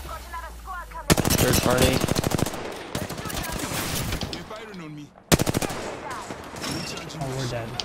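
Rapid automatic gunfire in Apex Legends, dense bursts of shots close and loud with a brief pause between volleys, while players talk over it.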